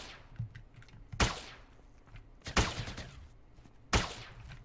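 Rifle shots in the MMO Entropia Universe, three sharp reports spaced a bit over a second apart, each with a short decaying tail, over quiet background.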